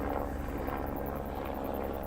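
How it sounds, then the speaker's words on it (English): Helicopter passing overhead at a lookout on Maungauika in Auckland, New Zealand, a continuous low rumbling drone with faint rotor throb heard outdoors without talk. "chopper going overhead."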